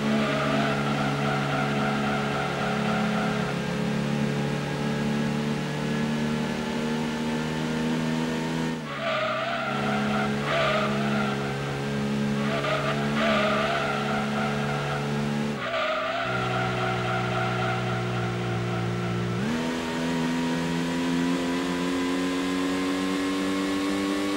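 Race cars roar steadily in Gran Turismo 2, a droning engine note rising and falling with gear shifts while tires squeal and skid in long stretches, loud and continuous.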